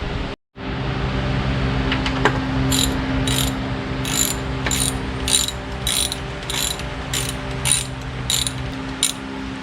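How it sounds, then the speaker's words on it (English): A ratchet with a 14 socket backs bolts out of a Yamaha outboard, its pawl clicking in a rapid, regular series of ticks up close over a steady low hum from nearby machinery. "I'm going to get a number 14 socket so it goes a little quicker"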